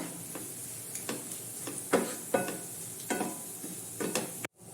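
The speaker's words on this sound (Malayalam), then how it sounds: "ഒന്ന് ഇളക്കി കൊടുക്കണം, കരിഞ്ഞു പോകാതെ." Ginger frying in oil for an Onam injicurry is stirred with a few scraping strokes of a spoon against the pan, a steady low sizzle running underneath, close and fairly quiet, with no voices.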